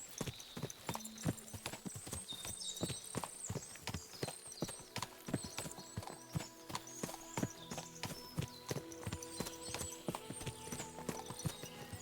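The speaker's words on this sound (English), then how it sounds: "What a lot of horses! They must have cost a fortune." Steady clip-clop of many hooves on hard ground in the video game Kingdom Come: Deliverance, a dense rhythmic clatter of several horses moving together, moderately quiet, with no talking.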